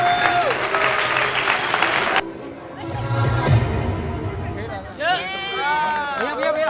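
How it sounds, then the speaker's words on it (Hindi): An audience applauds loudly to welcome a performer, the groom's sister, at a sangeet night at a Rajasthan resort, the clapping cut off abruptly, followed by crowd murmur, a host speaking and music starting. "सो एक बार जोरदार तालियों के साथ सृष्टि जी का स्वागत कीजिए।"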